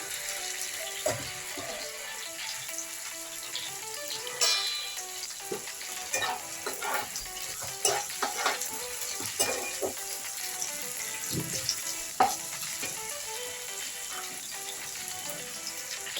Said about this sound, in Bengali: প্রথমে উচ্ছেটা ভেজে নিচ্ছি সুন্দর করে উচ্ছেটা ভেজে নেবো